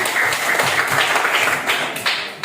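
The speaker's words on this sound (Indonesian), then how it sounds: "terima kasih, tepuk tangan buat Dendi." Students in a classroom clap for a classmate, a brief, close burst of scattered, uneven hand claps from a small group, with no talking over it.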